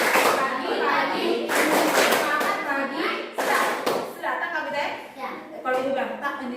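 A seventh-grade class at a vocational junior high school claps a rhythmic 'tepuk semangat' chant. Sharp bursts of hand claps land in uneven groups under the children's chanting voices.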